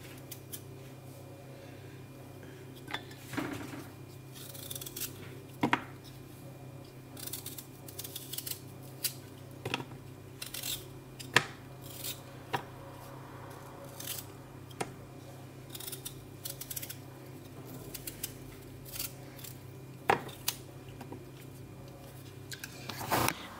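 Potatoes being peeled by hand in a kitchen: sparse, quiet, short scraping cuts and clicks at irregular intervals, close and faint against a soft background hum, with no talk.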